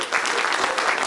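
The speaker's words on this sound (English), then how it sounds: "Let's give him a round of applause." Audience applause for a speaker at a crypto conference, steady dense clapping from a crowd filling the short moment without a break.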